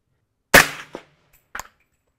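A Wilson Combat 300 HAM'R rifle fires one sharp, loud shot at a 100-yard range, followed by a short echo and a fainter second report.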